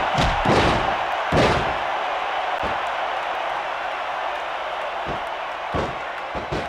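Wrestlers hit the mat with a reversal slam in WWE SmackDown! vs RAW, several heavy thuds landing over a loud, steady arena crowd roar.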